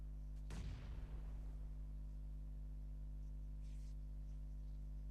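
A grenade detonates in PUBG Mobile as a single loud boom with a rumbling tail that fades over a few seconds above a steady low game hum.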